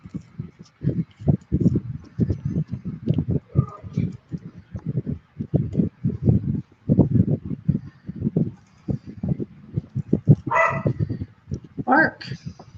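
A small rat dog barks repeatedly and insistently in a quick, uneven rhythm, loud and close indoors, with a couple of higher yips near the end; a voice speaks briefly amid the barking.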